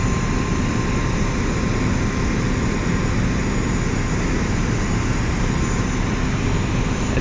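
Aircraft engine at Glasgow Airport holding a steady, loud broadband roar with a faint tonal whine, constant throughout with no talk.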